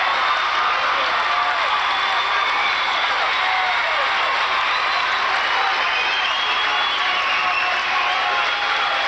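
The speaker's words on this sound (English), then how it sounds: "Listen to that crowd." Crowd roaring and applauding in a high school gym during a boys' basketball game between Lorain and Lakewood, a dense, steady wall of cheering and clapping that stays loud and unbroken throughout.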